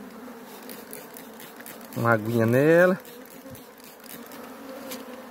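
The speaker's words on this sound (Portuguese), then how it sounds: "Agora eu vou pegar a abelha com jeito aqui." Honeybees buzz as they are handled and shaken into a wooden hive box fitted with wax foundation, a low background hum with a brief louder swell of buzzing close by, while someone talks.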